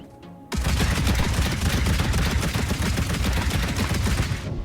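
Heavy turret guns built in the video game Trailmakers fire in a dense, loud, continuous barrage that kicks in abruptly after a brief quiet moment and rattles on without pause.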